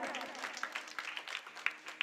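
Applause from an audience at a Marathi kirtan, brief and mid-level, with scattered claps and a voice in the mix.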